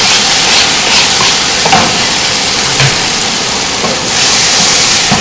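Tomatoes going into a pan of sautéing smoked herring, Trinidad style, a loud, close, hissing sizzle with a few scraping stirs, steady across the whole stretch.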